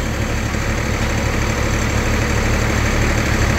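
A tractor engine runs at a steady idle beside a sawmill where a massive pecan log is being slabbed, a loud, continuous low rumble with an even throb and no pauses.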